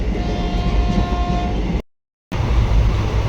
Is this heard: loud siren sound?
no